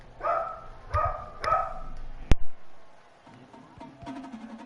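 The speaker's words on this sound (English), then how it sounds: "I love dogs barking in the background." Dogs bark in the background during a football video game session, three loud woofs in a row followed by a sharp clatter, then fainter yips and whines trailing off.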